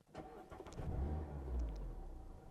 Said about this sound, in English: Clutch in and push to start.